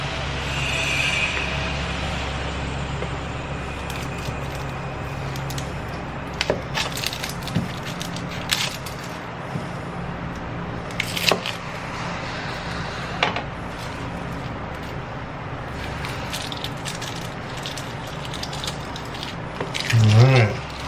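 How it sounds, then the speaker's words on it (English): A knife chops garlic and onion on a cutting board for pork adobo, giving irregular woody taps and knocks at close range over steady kitchen background noise. "Step number one, chopping the garlic and onion."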